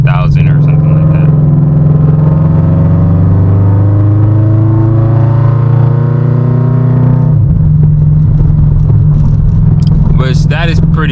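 A car engine droning loud and close as paddle shifters are used, holding a steady tone, then dropping pitch and rising again around a downshift, with a person talking over it.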